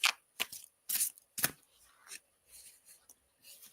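Green Witch Oracle cards riffled and shuffled by hand in short quick bursts with brief pauses between, close and crisp in a quiet room.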